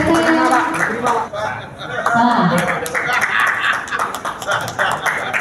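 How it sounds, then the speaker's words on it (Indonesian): Guests at an association awards ceremony applaud loudly for members receiving certificates, the clapping mixed with voices and crowd chatter throughout. "Boleh diberikan tepuk tangan yang meriah untuk"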